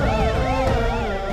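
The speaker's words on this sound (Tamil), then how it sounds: "ஆம்புலன்ஸ் சவுண்ட் கேக்குது" A loud, close ambulance siren wails in a continuous rising and falling sweep, the tone cycling twice per second with no speech over it.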